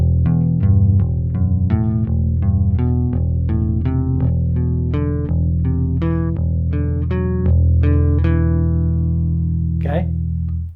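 Guitar picking exercise in a minor scale against a sustained low E drone, clear single notes plucked one after another in a steady rhythm over the ringing drone, close and moderately loud, ending with a final note fading out.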